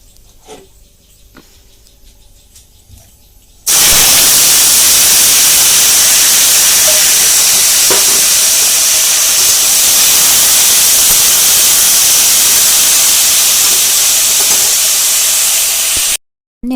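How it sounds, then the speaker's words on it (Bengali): Potatoes fry in a pan in a home kitchen, starting abruptly after a few quiet seconds as a loud, steady hissing sizzle that holds for about twelve seconds before cutting off. "এখন আমি ছেলেদের জন্য আলু ভাজা চাপিয়ে দিলাম"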